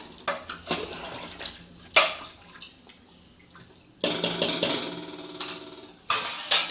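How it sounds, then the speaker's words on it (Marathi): Hot water poured into a pot of spicy chicken masala, splashing and gushing close by in several loud bursts with short pauses and clatters between them, no voices. "एकीकडे आपण पाणी तापत ठेवलं होतं ते आपण यामध्ये ओतून घेऊ"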